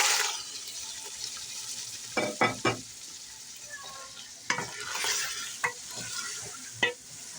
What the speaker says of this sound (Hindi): अब हम चिकन भून लेंगे।